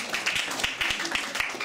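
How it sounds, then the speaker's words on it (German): Scattered audience clapping at a German-language talk, a thin patter of claps from a few people, fairly faint in a room with light background noise. "Ja, gerne darf geklatscht werden natürlich."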